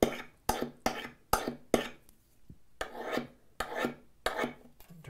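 A file sharpens the edge of a steel card scraper freehand, giving loud, regular rasping strokes, about nine in a steady back-and-forth rhythm, close and alone.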